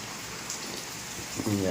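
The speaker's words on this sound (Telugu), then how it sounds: "వాన అయితే అసలు తగ్గనే లేదు ఉదయం నుంచి కురుస్తూనే ఉంది" Rain falls steadily after a full day of downpour, a constant soft hiss of drops on surfaces, with a brief voice heard near the end.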